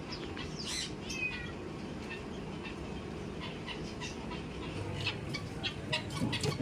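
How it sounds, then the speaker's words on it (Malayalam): A chicken clucks now and then with a few sharp calls, nearby and moderately loud, over steady outdoor background noise. "എന്തൊരു ഗൗരവം കോഴിക്ക്"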